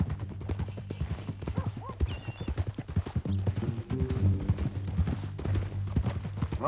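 Hooves clip-clop steadily at close range over a low background drone, with a horse's whinny rising briefly near the start, in Red Dead Redemption 2.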